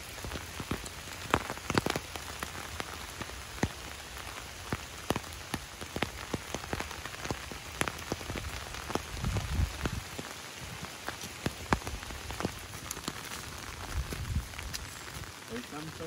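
Rain falling steadily on a boardwalk, with sharp close drops tapping on a nearby surface over a constant patter; faint voices and movement sounds mix in.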